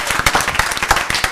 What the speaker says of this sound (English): let's give Carl a round of applause